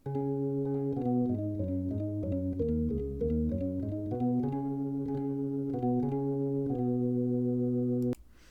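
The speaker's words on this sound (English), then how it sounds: "The lower organ sounds like this." A solo low organ plays a sequence of sustained chords and moving notes, steady and loud, ending abruptly with a click.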